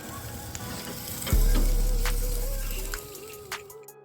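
Smoked boneless prime rib hits a hot surface for a sear, a sudden loud sizzle bursting in and slowly fading over a couple of seconds, with faint scraping around it.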